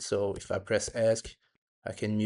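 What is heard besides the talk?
No distinct noise like a dog, phone or traffic.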